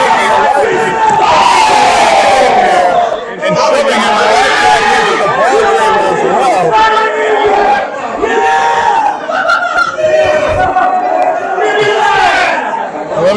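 Wrestling crowd at a Halloween Bash event, loud and sustained cheering and chanting with shouts rising and falling throughout.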